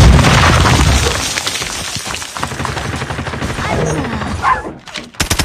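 Loud, dense gunfire and explosion blasts fill a COD Mobile multiplayer match, with rapid bursts and a grenade boom running continuously before a sudden cutoff and a few final pops.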